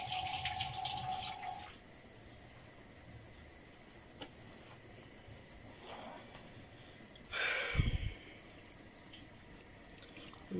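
Hands rinsed under a running kitchen tap while raw pork steaks are prepared; the faucet gushes steadily for under two seconds, then the room goes quiet apart from a brief clatter and splash.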